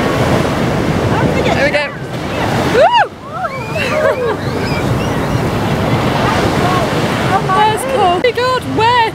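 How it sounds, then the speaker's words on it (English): Waves break and wash up on Santa Monica Beach with cold surf, rolling continuously under strong wind buffeting. People talk and exclaim excitedly over the surf. "We're on the beach from Santa Monica Beach and the sea is cold."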